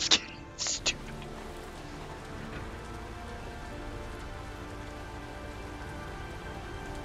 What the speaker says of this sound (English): Maybe it's the amount of rain we're getting.